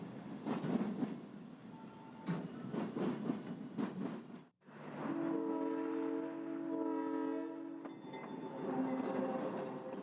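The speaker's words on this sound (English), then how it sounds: "UP-860 heads east across the Hayward line, this time with cars in tow." Union Pacific UP-860 rolls east across the Hayward line hauling freight cars. There is rumbling and clatter, a brief drop, then a long sustained horn blast of several steady tones over the rolling wheels.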